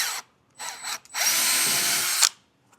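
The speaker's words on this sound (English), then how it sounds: "kind of hold this away from that bracket and drill that 1/4 inch hole" A power drill whirs through a 1/4 inch hole in a metal bracket on a front-mount trailer hitch install: two short bursts, then a longer sustained run that stops abruptly, loud and close.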